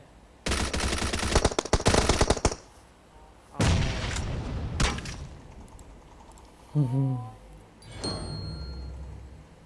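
Bursts of automatic gunfire from the PUBG Mobile battle game come in rapid loud volleys, followed by scattered single shots and a few sharper cracks, with brief quieter gaps between.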